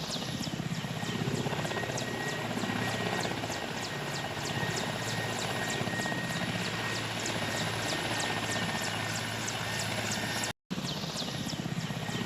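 A medevac helicopter flies over the Izium region in Ukraine, its rotor beating in a loud, steady, continuous thrum throughout, with a brief dropout near the end.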